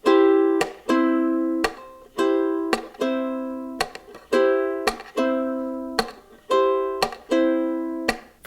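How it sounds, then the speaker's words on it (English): Ukulele fingerpicking pattern for a slow song, clear plucked notes ringing in a steady repeating rhythm with a strong accent about every second, played alone and close with no talking. "Here are some ukulele fingerpicking patterns that you could use for just about any slow song."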